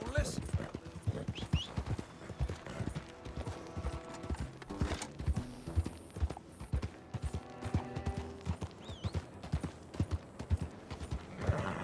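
Rapid, rhythmic hoofbeats of a galloping horse in Red Dead Redemption 2, close and steady, with occasional mechanical clanks and a brief whinny in the mix.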